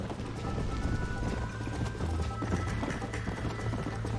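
Video game hooves from Red Dead Redemption pound in a rapid, continuous gallop, several horses racing close together with a steady rumbling rhythm.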